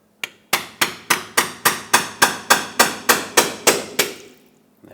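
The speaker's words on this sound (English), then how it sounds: "Use a pry bar and a hammer." About fourteen evenly spaced metallic hammer blows strike a pry bar wedged under the rear axle cover of a 1978–1987 Chevrolet El Camino, sharp and close, each ringing briefly before the next.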